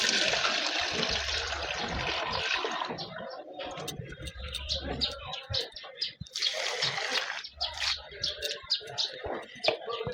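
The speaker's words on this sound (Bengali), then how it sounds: "সব গাছে একটু করে রোজ জল দিয়ে দেয়।" Water poured onto potted garden plants, among them marigold, aloe vera and hibiscus, running and splashing steadily in uneven bursts at close range for several seconds, with no voices over it.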